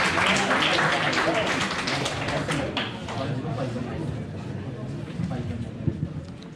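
Students and teachers at a school examination event clap to welcome a guest, a loud burst of applause that gradually fades while chatter continues underneath.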